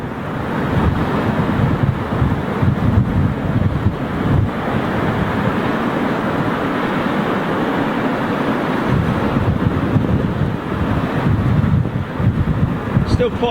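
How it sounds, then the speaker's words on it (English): Strong, gusty wind buffets an open microphone on an elevated spot at Heathrow Airport, a steady loud roar with rising gusts throughout and no clear voices. "Still quite blustery up here at the moment, not as much as it was earlier on, but enough to sort of like catch these guys off guard if there's a sudden gust."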